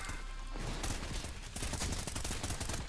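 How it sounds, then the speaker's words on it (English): Rapid gunfire from the first-person shooter Trepang2, dense overlapping bursts of automatic fire and shots sustained loudly across the whole stretch with no talking. "Stop firing when I'm trying to kill you."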